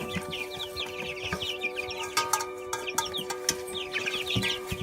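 Cornish Cross chicks cluck and peep in a steady crowded chorus, with many overlapping calls close by over a constant low hum, and no talking.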